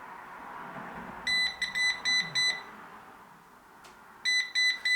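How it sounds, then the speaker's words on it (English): A robot vacuum cleaner, switched on by voice command, beeps in two bursts of rapid repeated electronic tones, four short beeps then three more after a pause, over a steady low whir. "it's beeping red because I'm holding him"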